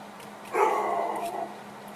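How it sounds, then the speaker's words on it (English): A single deep bark from a large guard dog, somewhat distant and muffled, rising briefly out of a quiet background. "you will hear a large dog barking in the background"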